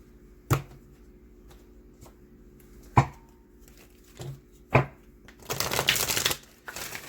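Oracle cards from a Wisdom of the Oracle deck are tapped and handled in a few crisp, separate clicks, then riffle-shuffled in a short, close, papery burst, with no talking.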